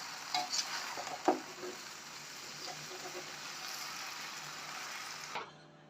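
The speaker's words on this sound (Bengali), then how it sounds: "এখন মশলার সাথে সব মিক্স করা হবে।" Noodles are stirred and tossed with spices in a frying pan, a soft continuous sizzle with a few scraping clinks of the utensil near the start.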